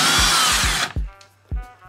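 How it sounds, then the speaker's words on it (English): A power drill whirs loudly for almost a second while drilling a hole in a wall for a molly anchor, then stops; a few short knocks and clatters follow close by. "I am going to have to drill a hole and put a molly in the other hole"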